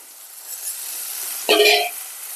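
Field beans tipped into a hot pan: after a quiet stretch, a sudden sharp sizzle bursts up close and fades within about half a second into a low hiss.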